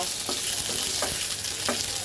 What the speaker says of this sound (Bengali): আলুটাকে সুন্দর করে কয়েক মিনিট ভেজে নেব